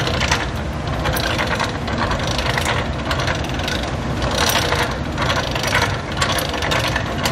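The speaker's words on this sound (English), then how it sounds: "So let's start rolling it up." A Dutton-Lainson hand winch ratchets steadily as its strap is wound up, giving a continuous, loud, close run of rapid metallic pawl clicks with no talking.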